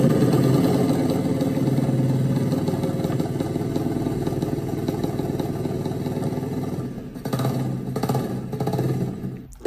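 A Yamaha XS500 motorcycle engine runs steadily throughout, a loud rumbling idle with some mechanical clatter and a slight shift in tone near the end.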